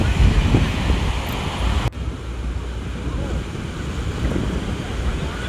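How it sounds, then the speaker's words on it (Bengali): Sea waves at Puri beach in the late afternoon surge and wash in a continuous broad roar, mixed with wind buffeting the microphone, with a brief dip in level partway through. "আর ঢেউগুলো কীভাবে আসছে দেখো"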